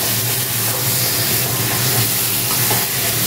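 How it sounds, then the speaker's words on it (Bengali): Hot water is poured into spice masala frying in oil, setting off a loud, close, continuous sizzle and hiss with steamy bubbling throughout. "এই গরম জলটা আমি এখানে ঢেলে দেবো"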